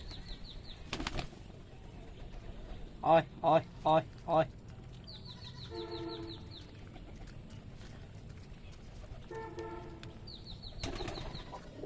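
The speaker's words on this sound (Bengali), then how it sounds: "আমার এই কবুতরগুলো হাতে এসে খাই এই দেখেন বলতে বলতে হাতে উঠে গেছে" A quick burst of Rajshahi Giribaz and racer pigeon wings flapping close by as they land on a hand, four sharp beats, with a man calling softly before and after and birds chirping faintly.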